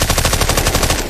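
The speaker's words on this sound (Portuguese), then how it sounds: "quando a gente tá assim no meio do tiroteio" Rapid automatic gunfire rattles through a shootout in a video game, a loud continuous burst lasting about a second.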